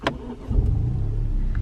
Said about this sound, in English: Nice little 3-cylinder rumble.